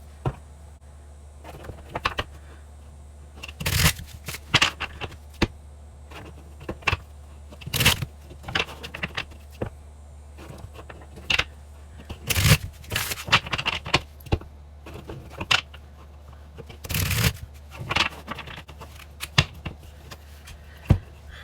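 A Waite Apprentice tarot deck is shuffled by hand in repeated bursts of crisp card riffles and soft slaps, separated by quieter pauses, close up and with no talking.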